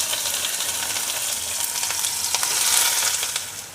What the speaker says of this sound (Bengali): এখন আমি 2 বড় সাইজের পেঁয়াজ কুচি করে কেটে নিয়েছি, তেলের মধ্যে ছেড়ে দিচ্ছি।